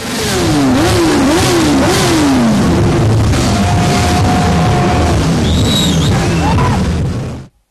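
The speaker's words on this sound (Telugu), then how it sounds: "బాబులు కొనిచ్చిన రేస్ బైకులతో బలుపెక్కిన రేసింగ్స్" Race bikes rev hard during street racing, loud and close, their engines rising and falling in repeated sweeping whines as they accelerate past, with no pause until an abrupt cut at the end.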